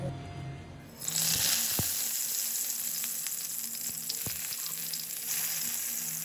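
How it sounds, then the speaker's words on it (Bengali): Salted, turmeric-coated brinjal slices drop into hot mustard oil in a kadai, setting off an abrupt sizzle that holds steady and close, with occasional crackles and no talking. "কড়াইয়ে সর্ষের তেল গরম করে বেগুনগুলো ভেজে নেব।"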